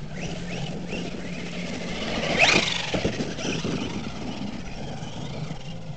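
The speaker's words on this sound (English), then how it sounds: "Sounds like the mesh might be a little tight on the spur." An HPI Maverick Quantum Flux MT 4x4 RC monster truck runs with a tight pinion-spur gear mesh, producing a continuous buzzing drivetrain whine that rises in a brief rev surge partway through, with gravelly rattles underneath.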